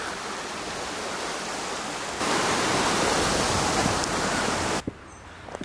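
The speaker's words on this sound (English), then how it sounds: "The River Dane." The River Dane near Three Shire Heads in the Peak District flows past as a loud, continuous rushing of water. The sound swells partway through and then cuts off abruptly near the end.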